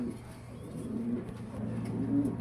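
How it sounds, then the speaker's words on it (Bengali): Soft, low cooing from a pair of Silver Baga pigeons, high-flyer breed, in a continuous murmur with a few swelling coos near the end, quiet and close with steady background hum. "সিলভার বাগা কবুতর।"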